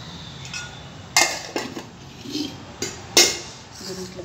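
A spoon clinks sharply against a bowl while mixing a curd and gram-flour face pack, a few distinct metallic taps with softer scraping between, close and clear.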